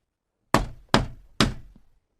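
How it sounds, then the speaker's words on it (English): Three firm knocks on a shop door, evenly spaced and close, each a sharp thud with a short decay, followed by silence. "Finally, he knocked on the shop door."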